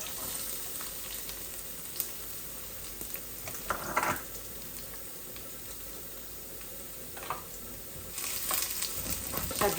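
Garlic fries in a pan, a faint steady sizzle running throughout, broken by a few scraping stirs and brief clinks, with a rush of running tap water near the end and no talking.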